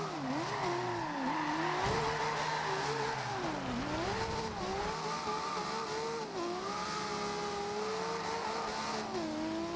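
Race car in Forza Horizon 2 handling like a weightless Formula 1 car, its engine whining and shifting pitch continuously through revs and gear changes with occasional tire squeal, loud and steady throughout.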